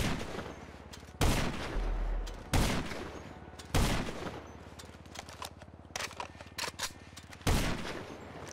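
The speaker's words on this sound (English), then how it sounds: "you literally shot me through a building" Sniper and other gunfire in the online game GTA Online, several sharp loud shots at irregular intervals with crackling bursts and rumbling echoes in between.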